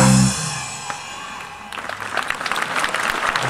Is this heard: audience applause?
yes